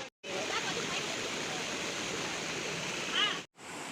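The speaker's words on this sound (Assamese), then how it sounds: "এই যে তিনিখন নদী দেখিছে ওপৰৰ পৰা নিজৰাৰ নিচিনা যে বৈ আহিছে" Three rivers pour down like a waterfall near a temple, making a loud, continuous broadband roar with a brief cut near the start and near the end.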